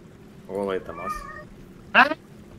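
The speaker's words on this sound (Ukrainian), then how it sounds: "Це чий кіт?" A cat in Diablo 2 Resurrected gives two clear meows, the second higher and sharper. Someone speaks between them.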